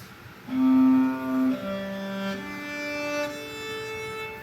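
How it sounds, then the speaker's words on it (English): A viola fitted with a practice mute plays a slow, soft phrase of sustained bowed notes, dull and subdued in tone, with no talking. "So now my viola, with this practice mute on, here I go."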